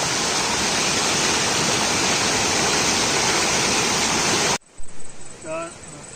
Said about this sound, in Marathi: आता आपण आलो नदीवरती खेकडे पकडायला